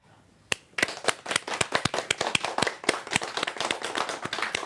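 Hand clapping from a small group starts with a single sharp clap, then settles into a brisk, uneven patter of separate claps at close range, with no one talking over it.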